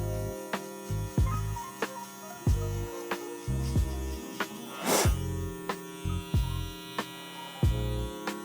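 Electric hair clippers buzz steadily during a low fade haircut, their low hum pulsing in a repeating rhythm as the blade is angled and pressed to mark the fade line, close and moderately loud with no talk.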